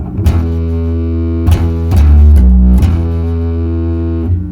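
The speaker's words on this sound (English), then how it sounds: "We can turn on the distortion just like we normally would." Electric bass played through a distortion effect in a pedal switching loop, thick gritty notes sustaining one after another with sharp plucked attacks, loud and alone with no talk.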